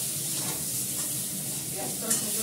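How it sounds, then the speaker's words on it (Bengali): Vegetables fry in a wok with cumin seeds and turmeric, giving a steady, moderately quiet sizzle and hiss with soft stirring throughout and one brief sharper spatter near the end. "জিরেটা হয়ে যাচ্ছে, ভাজা হয়ে গেছে।"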